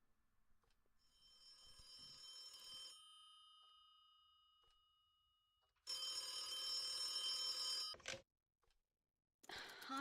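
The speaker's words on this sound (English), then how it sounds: "Harvey Miller, do you ever answer your phone?" A telephone bell ringing in an office in repeated bursts, a faint electronic trill first, then louder, harsher rings separated by short silences.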